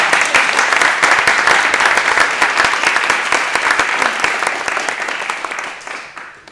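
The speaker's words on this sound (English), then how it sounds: "Y'all can clap for Chloe." Steady applause from an audience at a People's Summit against a European gas conference, dense and sustained clapping from a crowd that carries on for several seconds before tapering off near the end.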